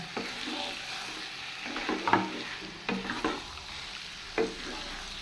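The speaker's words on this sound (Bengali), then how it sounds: "ভালো করে কষাতে হবে মাছটাকে পেঁয়াজ রসুনের সাথে" Bombay duck fish sautéing in a pan with onion and garlic, a soft frying sizzle broken by several scraping stirs of a spatula, moderately close and with no talking.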